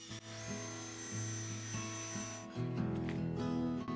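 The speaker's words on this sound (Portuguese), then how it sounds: "vou colocar blocos de madeira em cima e modelá-los com a lixadeira de cinta" A belt sander whirs steadily against wood, its pitch shifting as pressure changes, with a rasping grind that grows louder near the end.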